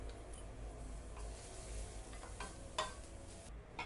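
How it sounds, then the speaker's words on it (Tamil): Grated coconut and cardamom frying in a pan for a Krishna Jayanthi sweet, a faint, steady crackle with a few louder ticks and scrapes near the end, no talking. "அப்படியே நம்ம தேங்காய் 1/4 மூடி தேங்காயும் போட்டு நல்லா ஃப்ரை பண்ணிக்கலாம்"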